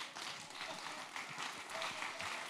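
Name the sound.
audience applause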